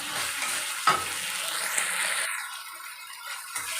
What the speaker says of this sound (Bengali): যতক্ষণ মশলাটা না ভাজা হচ্ছে ততক্ষণ ভালো করে নেড়ে চেড়ে দিতে হবে।